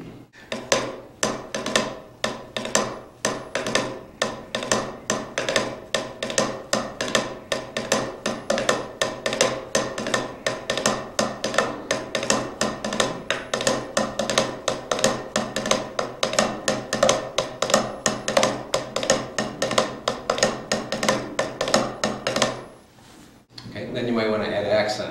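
Steady, evenly spaced drum strokes repeat rapidly for over twenty seconds in a single stroke roll, then stop abruptly.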